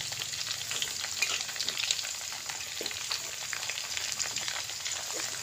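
Tomatoes frying in hot oil in a pan, a steady dense sizzle with faint crackles throughout and no talking.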